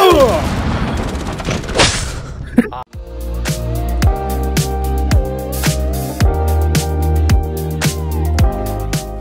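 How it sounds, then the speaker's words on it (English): Gunfire in the video game Rainbow Six Siege, a dense opening volley followed by a long run of loud, evenly spaced rifle shots with ringing tails, close and forceful. "Dave, you can shoot for the wall, shoot for the wall."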